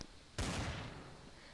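Video game gunfire in Trouble in Topbutton Town, a sudden loud burst of rapid shots that breaks a quiet moment and then trails off.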